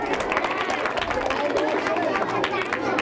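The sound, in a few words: applause for a correct quiz answer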